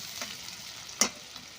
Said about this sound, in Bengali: পেঁয়াজটাও ভাজা হয়ে গেছে।